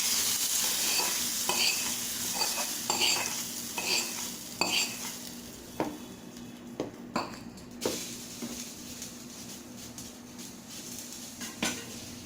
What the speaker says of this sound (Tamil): இதை தாளிச்சதை எடுத்து இந்த குழம்பு கொட்டிக்கலாங்க.